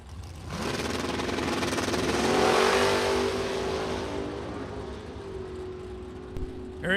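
A 1968 Camaro with a 383 small-block Chevy launches against another Camaro at a drag strip. A loud, sustained engine roar climbs in pitch, then slowly eases off.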